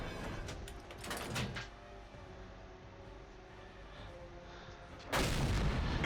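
Tank gun fire in World of Tanks, a heavy boom at the start with rumbling tail, a quieter stretch of engine hum, then another loud burst near the end.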